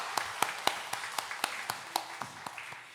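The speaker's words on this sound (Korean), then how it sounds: "하나님께 영광의 박수 올려드리겠습니다." Church congregation clapping during a Sunday worship service, a slow, even rhythm of about a dozen distinct claps, fairly faint and fading toward the end.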